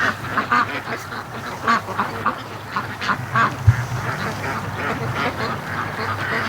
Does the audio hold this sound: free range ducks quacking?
yes